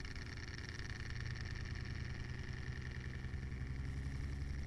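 A Bedini Mark 2 motor runs with a faint, steady mechanical hum and buzzing rattle that holds an even drone throughout, with no talk over it.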